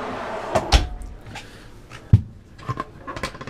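The slide-out pantry of a 2016 Airstream Flying Cloud 23D travel trailer slides and bumps shut in a few sharp knocks and thuds, close and alone, with a clatter of smaller taps at the end.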